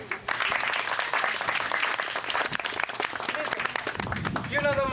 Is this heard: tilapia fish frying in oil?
no